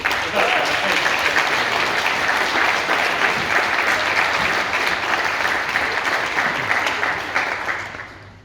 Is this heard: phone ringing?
no